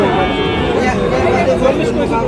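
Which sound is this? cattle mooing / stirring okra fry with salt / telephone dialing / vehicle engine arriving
cattle mooing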